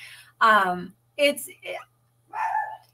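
A dog barks several times in short, sharp bursts close by, with brief pauses between barks in an otherwise quiet room.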